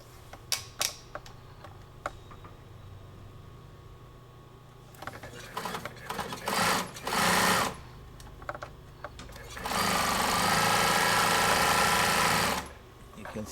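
A Bernina 950 industrial zig-zag sewing machine stitches a decorative design, its needle running in loud, steady bursts: a few short runs first, then longer stretches and one sustained fast run near the end, separated by quieter clicks and handling noises.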